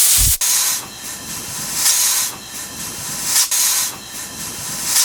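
Compressed air hisses steadily into a van's air suspension through a Schrader valve, swelling and easing in repeated bursts with a sharp click of the air chuck near the start.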